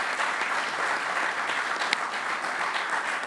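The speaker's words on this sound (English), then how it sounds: "Let's give that round of applause for that." Steady applause from a crowd at the Bethpage Black golf course, a dense wash of clapping that holds at an even level throughout.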